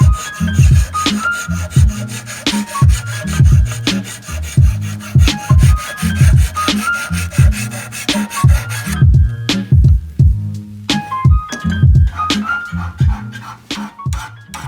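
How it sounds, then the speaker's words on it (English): A teenager's homemade knife blade is ground and filed by hand in rapid, rhythmic rasping strokes, loud and close, with brief pauses between bursts and no talking. "I'm trying to grind out this point"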